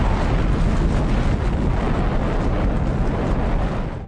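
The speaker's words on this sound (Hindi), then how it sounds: "ठीक 43 सेकेंड बाद एक महाविस्फोट होता है।" An atomic bomb blast at Hiroshima and Nagasaki, rendered as a sound effect: a loud, sustained roar of dense rumbling noise that fills the space and fades slightly at the end.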